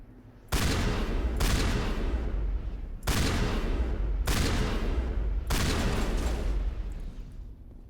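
Gunfire from pistols in Mass Effect, heard as four heavy, booming bursts of shots at roughly one-second intervals, each ringing out loud and close before the next begins.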